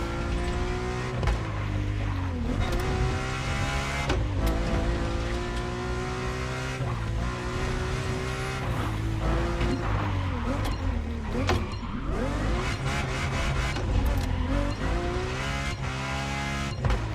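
Ferrari F50 engine in The Crew Motorfest drones steadily throughout, its pitch climbing and dropping through gear changes as the car drives, loud and continuous with brief tire noise and occasional voices over it.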